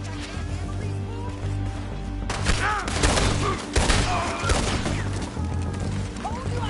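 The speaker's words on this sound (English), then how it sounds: "Told you I could shoot a gun, didn't I?" Red Dead Redemption 2 shootout with a volley of loud gunshots and ricochets in irregular clusters, mixed with crashes, thuds and shouting voices.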